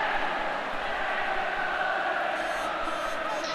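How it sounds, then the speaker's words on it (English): A football stadium crowd roars in celebration after a Defenders ball carrier scrambles for a first down, a steady, dense wash of cheering that holds at one level throughout. "As you can hear the crowd celebrating and rejoicing after that last play"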